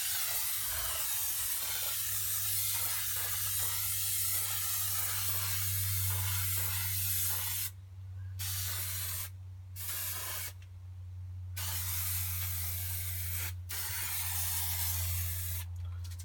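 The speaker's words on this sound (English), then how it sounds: "So we're going to spray both sides. We're going to give this one a light coating." An aerosol spray can with a worn, sputtering nozzle coats a car part from an XR2i restoration in a steady, close, loud hiss. The spray stops briefly several times in the second half.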